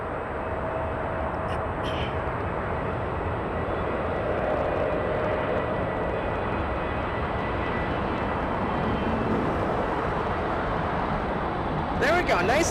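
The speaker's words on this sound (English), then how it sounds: "nice and firm landing for their Air France" An Air France airliner touches down in a firm landing near a Los Angeles spotting location, its steady loud engine and rushing roar filling the whole stretch with a louder burst near the end.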